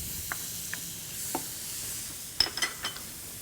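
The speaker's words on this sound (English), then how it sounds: "We're making a little sofrito here." Paella sofrito with fresh tomatoes sizzling in a pan, a soft steady hiss punctuated by a few light stirring taps and scrapes, louder clatter near the end, no talk.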